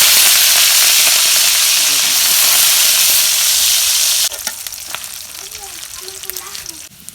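Dried fish sizzle and spit in hot oil in a home kitchen pan, a loud dense frying hiss that drops in level partway through, followed by quieter crackling with occasional stirring and clinks.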